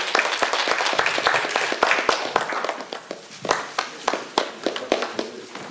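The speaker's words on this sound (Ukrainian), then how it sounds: "Гучніше оплески." Audience applause at a ceremonial send-off of young men to compulsory military service, a dense burst of clapping with sharp individual claps standing out, loud at first and thinning toward the end.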